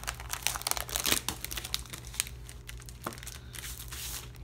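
Paper packaging from a planner kit crinkles and tears up close as it is opened, with bursts of crumpling and rustling over a faint low hum.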